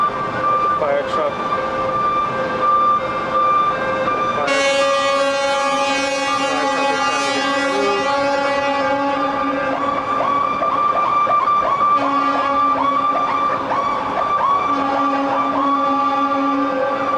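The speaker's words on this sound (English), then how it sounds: "The fire truck." A loud fire truck siren during the September 11 attacks, with a blaring air horn, then wavering siren tones rising and falling, overlapping with traffic and someone speaking.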